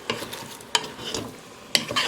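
Onions and meat cooking in a pan for a sautéed meat and broccoli dinner, giving a soft steady sizzle broken by a few sharp stirring scrapes, close and with no voices.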